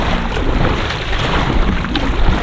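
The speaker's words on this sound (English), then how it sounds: "Come on, motor, do your thing." A small motor drives a kayak across open water, a loud continuous rumbling drone mixed with wind buffeting and water rush close to the microphone.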